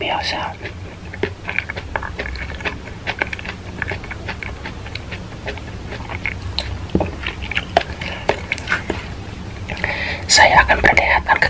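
Fresh okra is chewed close to the microphone, giving crisp wet bites and squishy mastication throughout, with soft whispering between the chews and a louder burst of crunching at the end.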